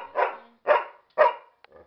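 A big dog gives three loud, close barks at an even rhythm, each a short gruff burst with brief pauses between, followed by a faint softer whine or yip at the end.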